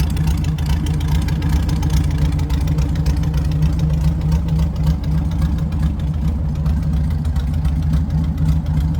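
A kit car engine idling rich, a steady low rumbling idle with a slight uneven pulse, close and continuous throughout with no voices.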